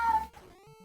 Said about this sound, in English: my cat meowing at me again